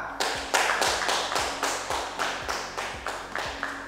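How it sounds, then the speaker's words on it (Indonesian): A classroom group claps for group A's presentation in steady unison, about eight sharp claps roughly half a second apart, close and moderately loud, with no talking. "Tepuk tangan untuk kelompok A"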